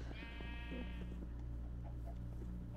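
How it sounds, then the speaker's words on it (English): A sheep in a video game bleats once, a clear wavering call near the start, followed by faint lower bleats and soft game ambience, with no one talking. "Come here, sheep. Hey, sheep."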